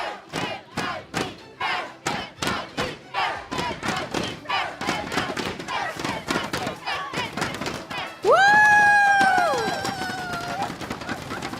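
A large crowd at an MPL Singapore Season 8 grand final esports event chants "NIP!" in a steady rhythmic pattern of short shouted bursts, then breaks into loud cheering and whistling near the end.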